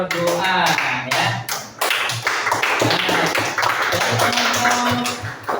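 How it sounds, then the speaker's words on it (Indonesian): A class of students claps for team A during a school lesson, a burst of scattered hand claps mixed with voices talking over them, fairly close and loud. "Tepuk tangan untuk regu A ya."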